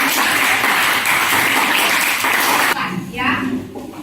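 Class of students clapping hands together in a steady, dense burst that cuts off abruptly, followed by a brief murmur of voices.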